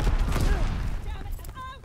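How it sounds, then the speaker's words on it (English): Mortar rounds and gunfire crash in a WWII video game, a brief burst of booms and shots layered under voices and radio-like game chatter. "Sending mortar rounds"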